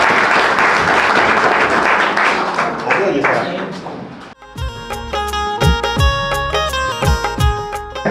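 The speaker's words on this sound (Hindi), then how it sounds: "सर के लिए जोरदार तालियां हो जाए।" Loud, dense applause from an audience at a school award ceremony for government job recruits fills the first four seconds, then cuts off as rhythmic music with a steady thumping beat begins.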